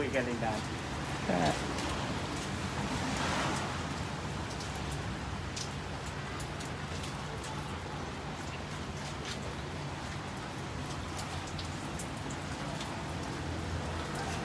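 Steady rain falls throughout during a Thai live stream about a Milwaukee power tool set, a continuous broadband hiss with patter, while someone talks over it.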